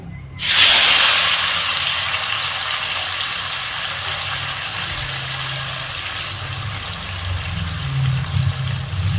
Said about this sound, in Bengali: হাই ফ্লেমে মাছগুলো ভাজবো